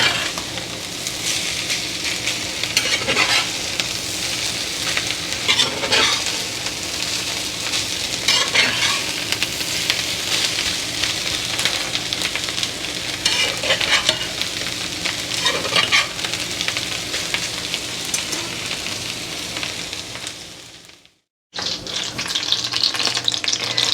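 Chicken hash sizzles steadily in a hot skillet while a spatula repeatedly scrapes and stirs it, with a brief silent gap near the end before the frying resumes.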